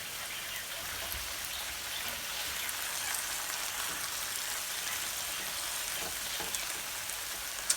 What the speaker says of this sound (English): make your fried eggs how you like to have them